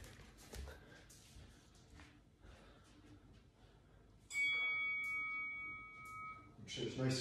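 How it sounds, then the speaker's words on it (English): A workout timer bell for a calisthenics burpee session rings partway through as a sustained, clear tone that lingers for a couple of seconds, with people talking before and around it. "You'll hear the bell when we start"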